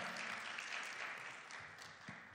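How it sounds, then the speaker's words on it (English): Audience applauds steadily at a lecture for a woman asked to stand, a dense even patter of many hands filling the room for a couple of seconds with no talk over it. "let's give her a applause"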